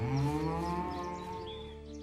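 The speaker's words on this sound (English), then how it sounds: "That's a fine cow you have there." A cow lets out a single long, drawn-out moo that is loud and close, starting strong and slowly fading over two seconds, with no one speaking over it.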